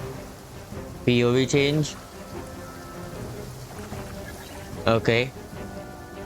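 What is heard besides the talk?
rain in the video game Genshin Impact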